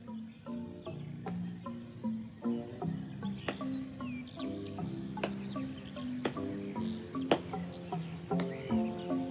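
Busy chorus of bird calls and chirps, overlapping tweets and whistled notes repeating at a lively pace, moderately loud and close, with no talking.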